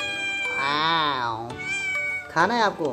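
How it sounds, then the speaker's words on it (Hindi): A pet cat meows and cries repeatedly at the smell of potato and eel fish cooking in a home kitchen, its drawn-out wails close and loud, mixed with someone speaking over and between them. "हमारा बिल्ली भी खुशबू सूंघ के देखो रोने लग गया।"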